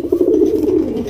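Desi pigeons at a pigeon market coo in a close, steady, warbling call that lasts about a second, loud and clear with no talk over it.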